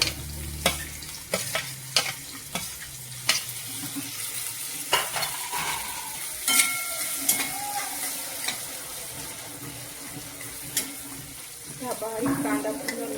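Finely chopped onion fries in a pan for matki misal, its soft sizzle punctuated by sharp, repeated spoon taps and scraping stirs against the metal.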